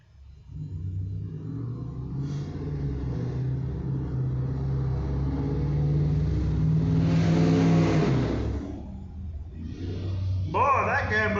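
A loud truck revs its engine outside, a steady rumbling roar that swells to a peak and then drops away, with a voice talking over it near the end.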